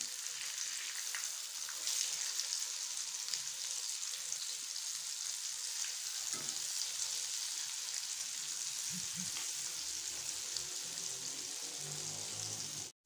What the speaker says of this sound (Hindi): कबाब हमारे एक साइड से फ्राई हो चुके हैं, अब हम इनकी साइड चेंज करेंगे